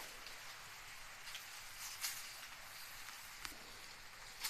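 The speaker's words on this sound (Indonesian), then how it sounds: "Dan di sini gerimis" Light drizzle falls outdoors in an avocado orchard as a faint, steady hiss of fine rain, with a few soft, sharper drop ticks and no voices.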